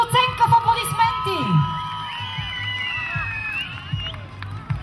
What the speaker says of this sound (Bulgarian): Публиката, нека да чуя вашата оценка в аплодисменти